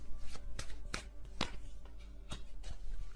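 Quick papery riffles of tarot cards being shuffled, coming in short irregular bursts close by, with no talking.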